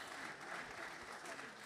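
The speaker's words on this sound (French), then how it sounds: "vous pouvez les applaudir" Audience applause fills a hall at a French political rally: dense, steady clapping from a crowd, sustained at even loudness throughout with no pauses.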